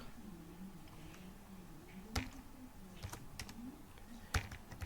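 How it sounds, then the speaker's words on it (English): Keystrokes on a computer keyboard tap out scattered, fairly faint clicks, with a few sharper key hits standing out over a steady low hum. "so you just type whatever you want to type here"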